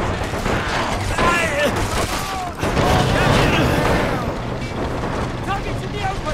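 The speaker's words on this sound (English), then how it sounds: "They're firing at the tank." Gunfire and heavy explosions in Men of War: Assault Squad 2, a dense, continuous battle din of shots and booms under voices talking over it.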